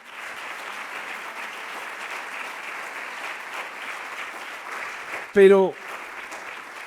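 Sustained audience applause fills a memorial concert and ceremony for victims of terrorism, a steady, even clapping wash that cuts off abruptly near the end as a single voice begins to speak.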